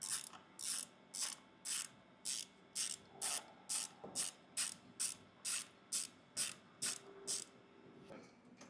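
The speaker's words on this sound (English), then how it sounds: "we're going to remove the purge valve from the OE intake tube, so 10 millimeter" A ratchet wrench loosens the 10 mm fastener on the purge valve of the factory intake tube on a 2023 Chevrolet Colorado or GMC Canyon 2.7L. About fifteen evenly spaced clicking bursts repeat in a steady rhythm, close by, with no talk.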